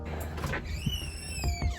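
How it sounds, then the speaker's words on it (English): Several household drawers are pulled open and pushed shut in quick succession, giving a run of soft wooden thumps and sliding scrapes with a faint squeak, close by in a quiet room. "Open, open, open, open, open. And those are all the drawers Carly has"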